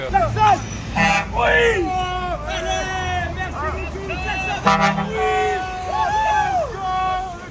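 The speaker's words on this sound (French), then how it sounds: "Actuellement, je viens d'avoir 2 klaxons" Car horns honk in short bursts amid a busy street near a roundabout, with people talking and a crowd murmuring in the background.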